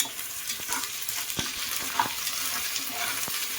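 Ginger-garlic paste frying in a pressure cooker for prawn biryani, giving a close, steady sizzle with a few stirring clicks and taps scattered through.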